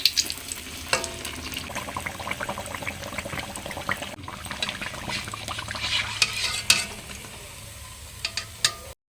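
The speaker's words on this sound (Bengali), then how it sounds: "এভাবে তেলের মধ্যে ছেড়ে দেবো। দেখুন একা একাই কিন্তু উঠে গেল পিঠেটা।" Stuffed poa pitha, rice-flour cakes filled with coconut, fry in hot oil with a steady bubbling sizzle and occasional soft stirring clicks, close and continuous with no talking.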